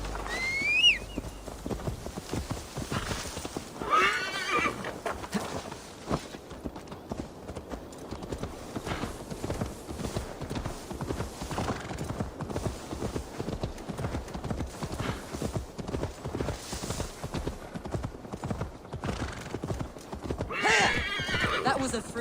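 A horse in the video game Assassin's Creed Valhalla whinnies at the start, then steady hoof clip-clops carry on throughout, mid-distance, with background game ambience and a second neigh near the end.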